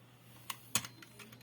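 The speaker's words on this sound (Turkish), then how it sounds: "Şimdi klavyeye basacağım." A few computer keyboard keys are pressed during a Fireboy and Watergirl game, quiet distinct clicks over a low steady hum.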